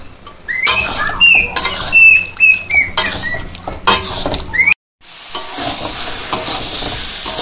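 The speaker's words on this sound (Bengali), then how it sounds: "মাংস কষানো হয়ে গেছে, সুন্দর করে কষাই নিচ্ছি।" Duck meat for a Bangladeshi village curry stir-fried in a pan, loud scraping and stirring strokes with sizzling, repeated spatula scrapes and clinks, a brief pause, then steady frying hiss.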